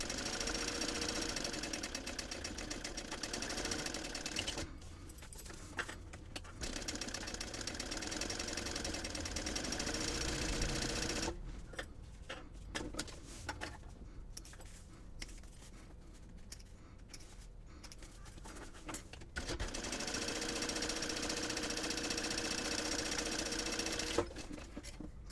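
A sewing machine basting around the perimeter of purse fabric with a narrow seam allowance, a close steady mechanical whirring stitch rhythm running in long stretches, broken by a few short pauses.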